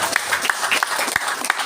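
Applause from the audience at an evening Islamic dhikr and manaqib gathering, a brief burst of many hands clapping with distinct close claps standing out against a busy crowd wash, moderately loud.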